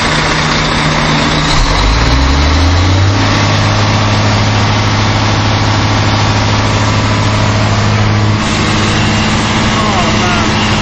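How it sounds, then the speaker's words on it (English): A car engine held at high revs with a steady heavy drone, rising in pitch over the first few seconds and then staying loud and sustained, dropping slightly near the end, with a voice faintly underneath. "Kevin, can you rev its tits off, please?"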